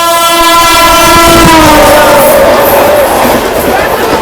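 Sealdah–New Delhi Rajdhani Express overtaking on a parallel line, heard from a moving train: a loud, close horn blast that slides downward in pitch as it passes, over rumbling wheels and rail noise.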